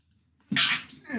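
A single loud, sharp sneeze bursts out after a brief quiet moment, close to the microphone.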